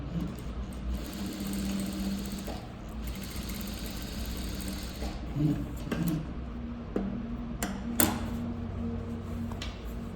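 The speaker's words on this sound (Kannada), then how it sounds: "ನಾನು ಇಲ್ಲಿ ಸ್ಟಿಚ್ಚನ್ನು ಹಾಕ್ತೀನಿ" A sewing machine runs steadily, stitching front dots on a blouse, with a continuous close motor whir and a few small clicks and bumps.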